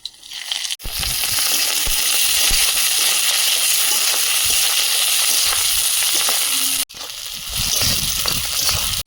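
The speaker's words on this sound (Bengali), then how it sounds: "বিন কড়াইটা আগে দেবো" Beans frying in oil and ghee in a wok for fried rice, giving a loud, steady sizzle that drops out briefly near the start and again near the end.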